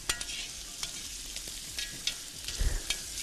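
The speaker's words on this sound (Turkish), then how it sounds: "Dökümün malum sağa sola biraz böyle yağ sıçratma meselesi söz konusu." Kokoreç, chopped and frying in oil in a cast iron pan, gives a steady close crackling sizzle with a few sharper spits and pops near the end, and no one speaks.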